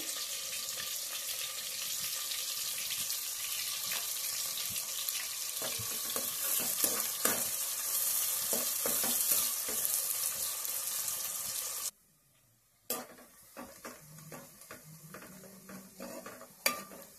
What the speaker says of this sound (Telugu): ఉల్లిపాయలు అయితే చక్కగా వేగుతూ ఉన్నాయండి